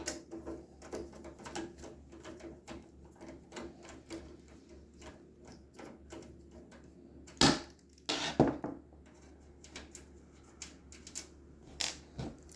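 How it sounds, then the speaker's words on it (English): Small ratcheting clicks and taps of a screwdriver undoing screws on a Dell Inspiron 530s computer case, a quick quiet rhythm broken by a few sharper louder knocks, close up and with no talk. "Undo this screw."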